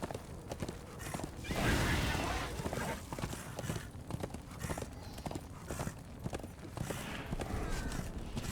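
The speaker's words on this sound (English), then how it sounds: "This is no place for a horse." Horse hooves clip-clopping in the video game Darksiders II: a quick run of rhythmic clopping steps, close and fairly steady, with a brief louder rush partway through and speech in the mix.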